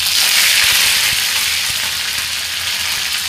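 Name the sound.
curry leaves sizzling in oil with cumin and mustard seeds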